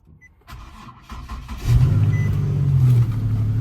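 An older original OBS Ford F-150 pickup with about 127,000 miles cranks and starts after sitting a while, the starter whirring before the engine catches into a loud, low, throaty idle close by.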